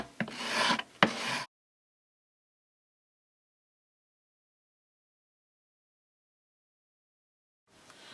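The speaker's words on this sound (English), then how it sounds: "or scraped it back more with my little card here" A card scraping paint back off a wood plaque gives two short, close, rasping strokes lasting just over a second, followed by silence.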